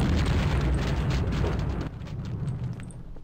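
Tank explosions in the Half-Life video game boom loudly in a rumbling burst that then fades into quieter crackling debris, with no talking over it.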